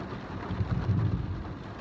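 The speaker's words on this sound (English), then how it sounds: "it's pouring rain." Heavy rain pours steadily with a low thunder rumble swelling in the middle, a dense constant wash of noise with no voices.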